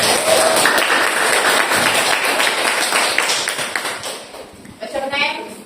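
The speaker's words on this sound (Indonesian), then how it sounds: "Tepuk tangan dulu." A classroom of children applauds in a dense, steady burst that tapers off toward the end, with voices mixed in and a brief higher-pitched call near the close.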